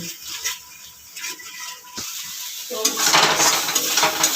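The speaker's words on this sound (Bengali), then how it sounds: "এবার এই গুঁড়ো মশলা দিয়ে আরও কিছুক্ষণ সময় কষিয়ে নেব" Dry chilli and cumin powder being sautéed in a pan for a Bengali prawn curry, a steady sizzle with stirring and utensil scrapes that grows louder and more crackly in the final second and a half.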